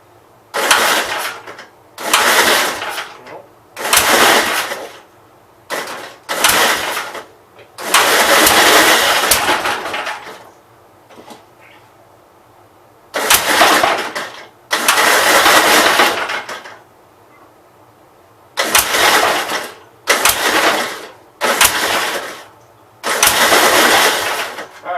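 Navy model L Gravely walk-behind tractor engine repeatedly cranking and briefly catching, a dozen or so loud bursts of engine noise separated by short quiet gaps, stuttering rather than settling into a steady run.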